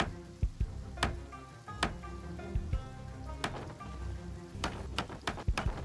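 Rain falling in the survival game Project Zomboid, a steady patter of drops on surfaces with sharp, loud drip-like clicks scattered through it, continuous and close, with no voices.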